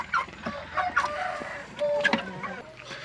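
Several chickens cluck and chatter nearby in irregular bursts, with a faint voice in the background.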